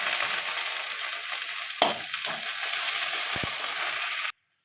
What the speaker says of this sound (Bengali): পেঁয়াজ দিয়ে দেবো